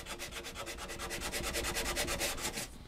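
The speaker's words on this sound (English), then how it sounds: "You can extend the life of your sandpaper a little bit by rubbing it on the carpet when it starts to get clogged" Sandpaper scrubbed quickly back and forth on carpet in a fast, even rhythm of raspy strokes, close and clear for about three seconds before stopping abruptly.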